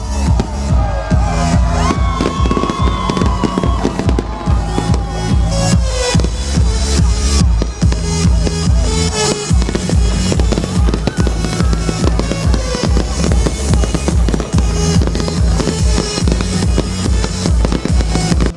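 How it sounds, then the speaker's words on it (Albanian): A city fireworks display at a summer tourist season opening night in Vlora, with continuous dense crackling and popping bursts mixed with a cheering crowd throughout. "Një pikë kulmore ishte dhe spektakli shumë pritur i fishek zjarreve,"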